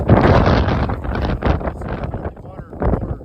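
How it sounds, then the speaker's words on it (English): Gusty wind buffets the microphone in loud, rough bursts that rise and fall over a few seconds, outdoors at a no-till cover crop field. "Pretty windy out today."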